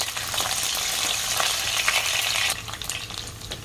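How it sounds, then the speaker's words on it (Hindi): Cauliflower and mixed vegetables deep-frying in hot oil on a high flame give off a dense, steady sizzle and crackle, loud and close, which eases slightly partway through; no voices. "एक एक करके सारे वेजिटेबल को फ्राई कर लेंगे। फ्लेम मैंने हाई रखा है।"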